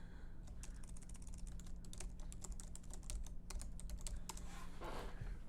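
Rapid keystrokes on a computer keyboard as a password is entered for a church website login, steady close clicking under a low constant hum, ending with a brief duller thump.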